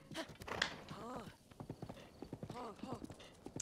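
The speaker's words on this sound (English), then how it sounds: "Come here, horse." Horse hooves clip-clop in The Legend of Zelda: Breath of the Wild (Master Mode), a brisk series of close hoofbeats with a short whinny, heard under someone talking over the gameplay.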